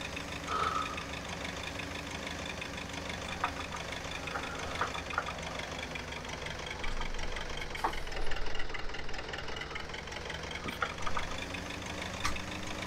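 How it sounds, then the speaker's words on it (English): A small tractor engine chugs steadily at a knocking, mid-pitched idle-to-working rhythm, close and continuous, with occasional clanks and rattles over the running motor. "This is not a bad little tractor."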